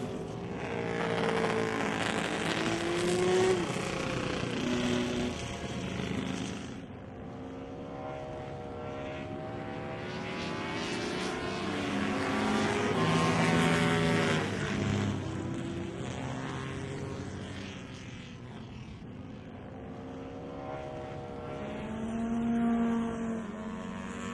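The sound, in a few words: Rob North Triumph motorcycles racing at Brooklands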